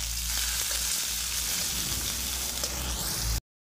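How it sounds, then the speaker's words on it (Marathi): Finely chopped onion and curry leaves sauté in hot oil in a pan for paneer bhurji, giving a steady, close sizzle with faint stirring scrapes throughout before it cuts off abruptly. "बारीक चिरलेला कांदा, कांदा थोडा परतवून घ्यायचा आहे"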